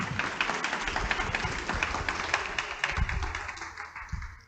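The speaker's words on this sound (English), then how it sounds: "Let's give them a round of applause" An audience gives a round of applause after an event honoring author Mildred D. Taylor, with steady, dense clapping throughout and a few louder thumps near the end.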